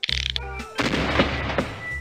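A cannon token fires in the Monopoly '02 edition PC game, a short electronic tune followed by a booming blast and rumbling crackle of follow-up bursts.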